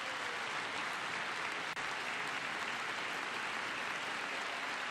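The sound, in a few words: applause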